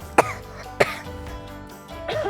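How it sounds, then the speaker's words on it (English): A person coughs twice into their elbow, two sharp, fairly close bursts about half a second apart, followed by a brief softer breath with no talking. "you should start coughing and sneezing into your elbow like this"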